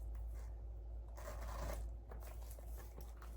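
A zipper on a pocket of a leather-lined handbag is pulled open, a faint short scratchy rasp in the middle with light handling rustle around it in a quiet room.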